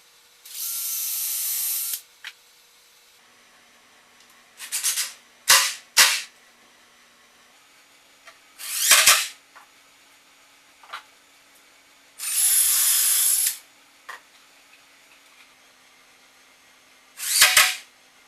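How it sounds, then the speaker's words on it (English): Power tools fasten handrail cross braces on a loft bed staircase, with several bursts of drilling or driving, some long and steady, others short and sharp, separated by quiet pauses and small handling knocks. "Now I'm going to install the handrail cross braces"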